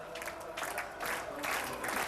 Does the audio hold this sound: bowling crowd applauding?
yes